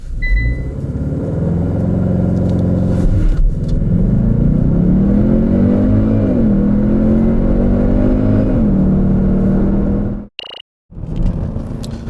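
2021 Kia Stinger 2.5T AWD facelift launching hard from a standstill. The engine roars loudly and close by, its pitch climbing and dropping at each gear shift, before the sound cuts off abruptly near the end.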